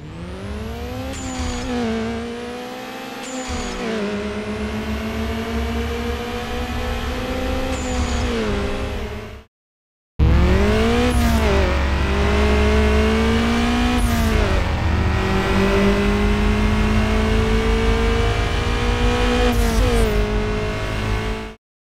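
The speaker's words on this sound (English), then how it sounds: "The engine and gear sounds were different, and all the cars by the time of this build seemed to use the same sounds" Car engines rev and gears shift in an early build of the racing video game NFS: Underground, with loud sustained engine drone, rising pitch sweeps and a brief cutout near the middle before the revving resumes.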